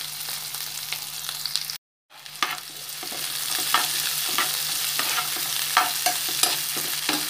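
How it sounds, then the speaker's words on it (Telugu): Onion and green chilli fry in oil after mustard and cumin seeds, a close continuous sizzle broken by a brief drop-out, with scraping stir knocks recurring at a steady rhythm. "ఆనియన్ 2 మినిట్స్ ఈ ఆయిల్లో ఫ్రై చేయాలి"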